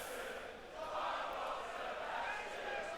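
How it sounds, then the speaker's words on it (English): A wrestling crowd chants together, a broad roaring wash of many voices rising and swelling steadily for a few seconds at a moderate distance. "What are they chanting?"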